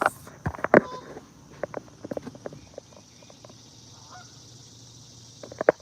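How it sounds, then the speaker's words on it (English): Several honks from geese sound at a middle distance, a few loud calls early on, then scattered quieter honks over a steady low outdoor rumble. "Listen to that geese."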